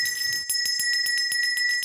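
A hospital victory bell, rung by a leukemia survivor at the end of treatment, clangs in a quick run of bright metallic strikes with a sustained ringing tone between them, close and alone.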